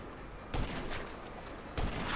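Gunfire in the game GTA V during a death run, two sharp bursts of shots standing out over a noisy background of car chaos, fairly quiet overall.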